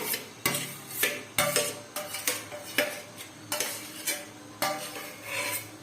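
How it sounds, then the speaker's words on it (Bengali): Spatula scraping and stirring chicken chowmein with fried egg in a pan, a steady rhythm of loud repeated scrapes and clanks close up, with a faint sizzle underneath and no voices. "এবার এগুলো সবগুলো ভালো করে মিশিয়ে নিচ্ছি"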